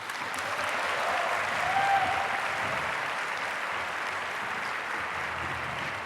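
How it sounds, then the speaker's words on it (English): A hall audience at the Thessaloniki 2016 World Universities Debating Championship ESL final applauds the debate finalists, a dense, steady wash of clapping that holds at an even, loud level for the whole stretch. "One more round of applause for the ESL finalists"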